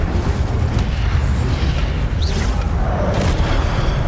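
Incendio fire spell cast in Hogwarts Legacy, a loud, dense rushing roar of flame that fills the whole moment with a deep rumbling body, no voices over it.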